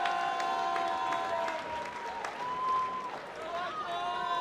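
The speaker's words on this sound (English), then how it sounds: "a big round of applause for both of these men, please" Applause and crowd noise for two fighters after a five-round mixed martial arts bout, a dense clapping wash that dips midway and rises again, under ringing tonal sounds and a voice.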